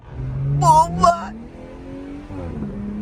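A BMW M340i accelerates hard from a standstill with its wheels spinning, a rising engine tone climbing under excited shouting from nearby onlookers.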